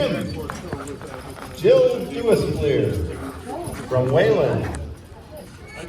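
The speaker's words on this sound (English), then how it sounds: "have your horses on the rail at a trot" Farm draft horses trot around a county fair show ring, hooves clip-clopping with harness rattle while an announcer talks over the loudspeaker.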